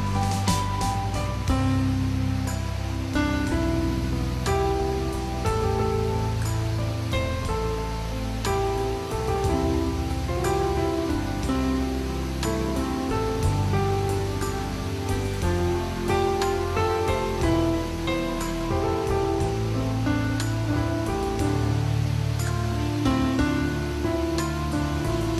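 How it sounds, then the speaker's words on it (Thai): Tat Nam Di waterfall near Kao Rao Cave in Luang Namtha, Laos, pours in a steady, dense rush of falling water that roars continuously and evenly throughout, with no voices. "น้ำตกตาดน้ำดีเป็นน้ำตกตาดที่มีความสูงพอสมควรม"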